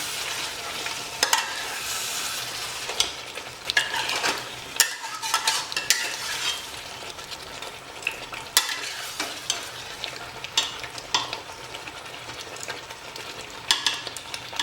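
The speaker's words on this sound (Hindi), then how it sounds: "इसे अच्छे से मिक्स कर लेंगे।" Mutton curry masala frying in a pan is stirred repeatedly, giving irregular scraping clatters over a constant soft sizzle, moderately close, with no talk.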